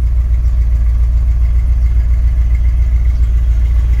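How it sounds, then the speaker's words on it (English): A 1979 Jeep Cherokee Chief engine idling steadily, a loud, low, even rumble with a faint mechanical clatter, running close by without any voices over it. "motor sounds actually really nice"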